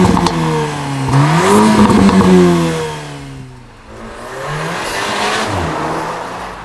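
A VW Golf R Mk8 fitted with a GPF-back exhaust revs hard, with rising and falling engine pitch, a dip and lull in the middle, then another climb, loud and close with no voices.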